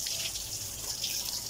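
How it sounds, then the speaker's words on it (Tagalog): Strong running water from a tap, used to bathe a Chow Spitz dog, pours in a steady close hiss with no talking. "Ang malakas tubig."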